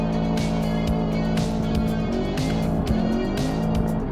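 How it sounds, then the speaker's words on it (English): A roadster in the BeamNG driving game spins its wheels under hard acceleration, with a loud, sustained engine drone and wavering tire squeal sliding up and down in pitch throughout. "The wheels are spinning a lot more."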